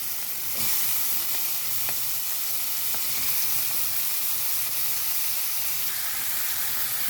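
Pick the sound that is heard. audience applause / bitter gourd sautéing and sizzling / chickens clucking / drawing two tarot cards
bitter gourd sautéing and sizzling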